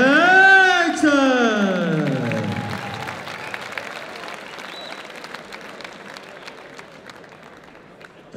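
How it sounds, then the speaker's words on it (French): Crowd applause for Anissa Meksen, a European and world Thai boxing champion, being introduced before a K1-rules bout: a loud sustained tone opens, then broad clapping that gradually thins and fades. "Je vous demande d'applaudir bien fort."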